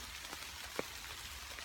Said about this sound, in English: I'm just going to sit in the rain.